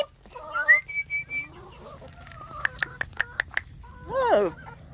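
Chickens cluck and chirp close by in short irregular calls, joined by a rising whistled call and a few sharp peeps, with a person's voice faintly present.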